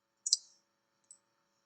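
Computer mouse clicks while placing a clone in the Scratch program: two short, crisp clicks close by, the second fainter, with silence around them.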